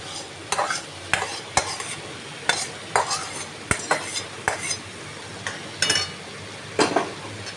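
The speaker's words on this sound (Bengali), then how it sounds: "মশলাটা কিছুটা কষানোর পর আমি চালগুলো দিয়ে দিলাম" Spice paste and rice stir-fried in a pan for a Katla fish head dish: a spatula knocks and scrapes against the metal in an irregular rhythm over a soft, constant sizzle, with no talking.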